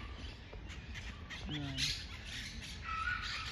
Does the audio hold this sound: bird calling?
yes